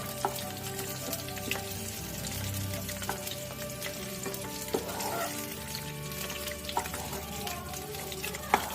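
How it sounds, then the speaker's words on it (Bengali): Onion fries in oil in a pan for a prawn dopeyaja, a soft continuous sizzle with occasional spatters and the scrape of stirring, close and quiet. "হালকা করে একটু ভেজে নিলেই হয়ে যাবে এটা।"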